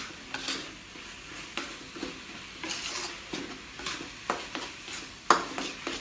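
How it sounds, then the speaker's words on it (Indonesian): Spice paste for Indonesian urap stirred as it fries in a pan, a steady soft sizzle broken by repeated scraping strokes of the spoon and one sharper clack near the end, close and fairly quiet, with no voices. "Bumbunya diaduk sampai merata"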